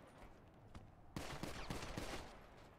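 Video game gunfire arrives as a quick burst of several close, sharp shots after a quieter stretch with a few distant pops.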